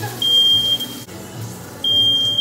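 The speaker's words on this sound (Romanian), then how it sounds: "Da, aia a fost alarma de incendiu." A fire alarm sounds in two loud, piercing electronic beeps, each a steady high tone lasting close to a second with a short gap between them.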